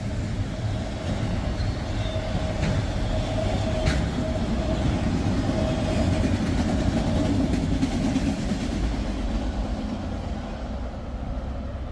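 Norfolk Southern freight train rolling past at close range outdoors, a steady loud rumble of wheels and cars with faint rail clatter, continuous throughout.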